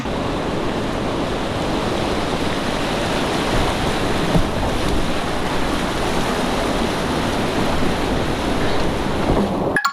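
River water rushes continuously around a kayak on the Lower Big Sandy at 5.3 feet, a loud, dense broadband wash with wind buffeting the microphone, steady throughout before cutting off abruptly at the end.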